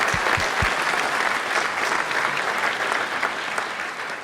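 An audience at Stephen Curry's 2015 NBA MVP speech breaks into sustained, dense applause that fills the hall steadily from start to finish.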